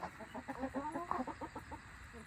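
Backyard hens murmur and cluck in their run, a soft, steady stream of short close calls and low chatter, fairly quiet, without any talking.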